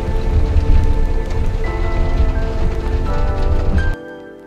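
Steady rain falls in the Kaimur hills near Sasaram, a dense, loud hiss of drops pattering on nearby surfaces that continues throughout before cutting off abruptly near the end.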